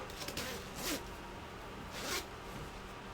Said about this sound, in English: We will undo the zipper.